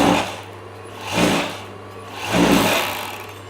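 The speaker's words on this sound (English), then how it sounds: "So we're now going to overlock these two edges together." An overlocker sewing machine runs in two short bursts as it stitches two fabric edges into a seam, a fast whirring hum swelling up and dropping back to a quieter idle between runs.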